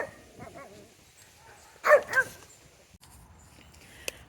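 A dog barks in the distance in a short burst of two or three faint yaps at a neighbour's place, with quiet outdoor background before and after.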